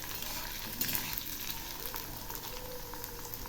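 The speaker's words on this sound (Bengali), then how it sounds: "এই 2 রকমের আলুই খুব ভালো করে ভেজে নেব।" Potato pieces, both raw and boiled chunks, fry in oil in a pan for a vegetarian bottle-gourd dish, giving a steady close sizzle with occasional stirring scrapes and a brief louder crackle near the start, no voices.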